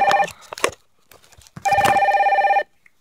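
Toy red telephone in a Playmobil play setup ringing with a loud buzzing electronic tone, first a short burst and then a longer one lasting about a second, with brief clatter between rings.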